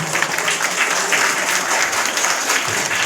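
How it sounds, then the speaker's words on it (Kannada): Loud, steady applause from an audience at a children's school play, dense clapping filling the whole stretch with no voices over it. "ಜೋರಾದ ಚಪ್ಪಾಳೆ ಪ್ರೇಕ್ಷಕರು"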